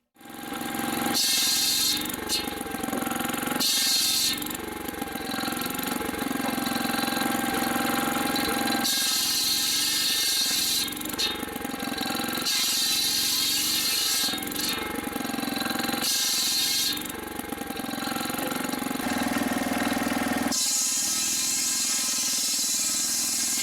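A Simplicity brush cutter and log saw running steadily nearby, a continuous loud engine drone with hissy high-end bursts that rise and fall as the load shifts.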